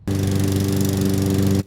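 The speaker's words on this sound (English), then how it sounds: "which means it's also time to break out the lawnmower." A lawn mower engine runs steadily at close range, loud and constant with a strong low droning hum, starting and cutting off abruptly after about one and a half seconds, no talk.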